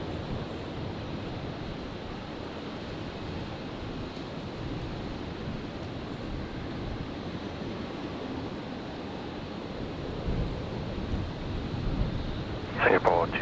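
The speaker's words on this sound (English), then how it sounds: "Looks like we're going to get Jetstar 484 arriving before the Singapore departure" A Jetstar airliner arriving from Newcastle passes at Brisbane airport on a stormy night, a steady broad jet roar that holds throughout and swells slightly near the end, with brief radio-like voice chatter at the close.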